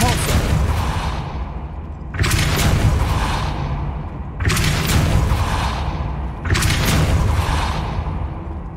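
Depulso spell cast in Hogwarts Legacy, four heavy booming blasts, each a sudden whooshing impact that decays over about two seconds, evenly spaced and loud.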